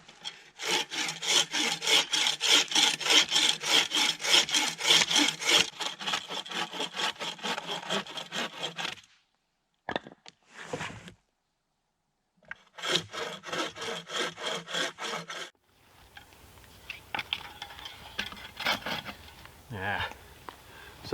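A bow saw cuts dry maple in the Vermont woods with rhythmic rasping back-and-forth strokes, near and loud, pausing briefly before resuming; later a person talks over softer handling sounds.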